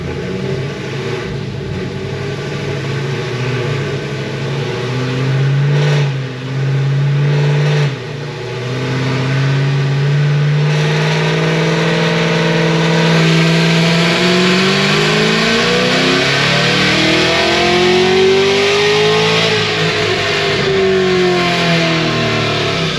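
A 1100 HP Cadillac CTS-V with a Magnuson 2650 supercharger and flex fuel at full throttle, a loud close engine roar climbing steadily in pitch under strong supercharger whine, without speech.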